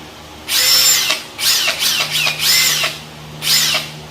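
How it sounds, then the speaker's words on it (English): A Metabo HPT cordless hammer drill on a 2.5 amp battery runs in four loud, close bursts of about a second each, revving up and stopping with short pauses between them. "Got the hammer drill"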